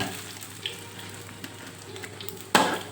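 Thai omelette with shallots fries in a hot pan, giving a steady close sizzle with light stirring taps and a sharper crackling burst near the end.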